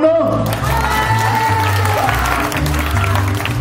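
A live audience applauds and cheers for the first contestant at a casual singing contest in Zapopan, with steady clapping and a few whoops over a low droning music bed throughout.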